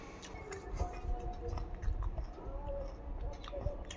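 Close, wet chewing and biting while eating homemade jujube chutney, a run of soft mouth sounds and small crunches with no clear talking.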